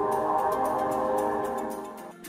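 Pedestrian alert sounder of a Ford Transit Custom Plug-in Hybrid van: a steady synthetic tonal hum with faint rhythmic ticking, close and clear, fading out at the end.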